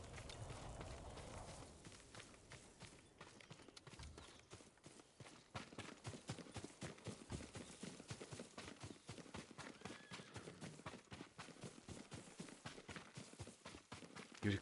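Horse hooves clip-clopping in a steady walking rhythm, fairly close and distinct, continuing without pause.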